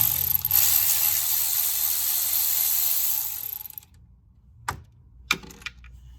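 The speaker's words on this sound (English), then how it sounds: "I'm gonna start by removing these 10 mils here." A ratchet works loose 10 mm bolts near the alternator of a 2008 Hyundai Veracruz V6, giving a steady buzzing clicking run that stops, followed by a few sharp metallic clicks and knocks in a quiet workshop.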